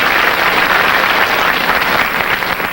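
Studio audience on a 1979 episode of The Price Is Right bursts into steady, dense applause, loud and close, filling the whole moment without any voice over it.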